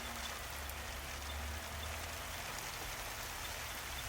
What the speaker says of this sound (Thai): ตอนนี้ฝนก็ยังตกอยู่นะครับ